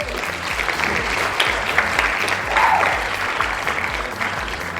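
Applause from a podcast studio audience, dense sustained clapping from a small crowd lasting the whole stretch, close and steady.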